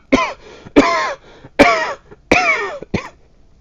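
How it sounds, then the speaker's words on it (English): A person caught in a coughing fit: five loud, close, harsh coughs in quick succession with short raspy throat-clearing gasps between them, alone with no talking. "That caused me going to a coughing fit there"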